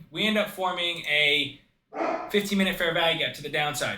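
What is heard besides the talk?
dogs barking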